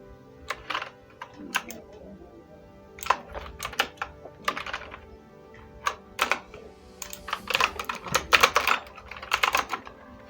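Fingers type on a computer keyboard in quick irregular bursts of clicks and pauses, close and fairly quiet, with no talk.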